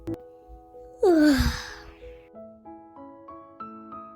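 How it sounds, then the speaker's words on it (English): A single long, breathy yawn rises and then sighs downward in pitch, heard up close over a soft, gentle music bed. "Let's do one big yawn together."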